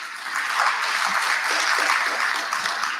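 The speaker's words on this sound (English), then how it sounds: "So let's give him a good round of applause." A crowd at a student council induction ceremony claps continuously, a dense, steady wash of applause with no voices over it.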